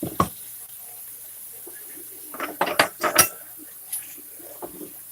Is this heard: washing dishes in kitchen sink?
yes